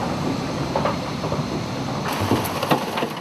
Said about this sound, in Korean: 요란한 소리를 내며 탄차가 들어선다.